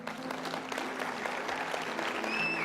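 A church audience applauds during a sermon, a steady wash of clapping from many hands that holds for a few seconds.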